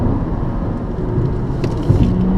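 A Mazda3 with a 2-litre Skyactiv four-cylinder engine and six-speed automatic, driven on a small road, gives a steady, loud engine drone heard from inside the cabin with no talk.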